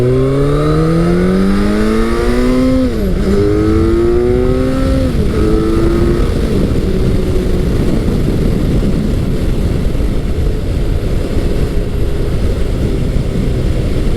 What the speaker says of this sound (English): This one sounds nice with a Yoshimura exhaust.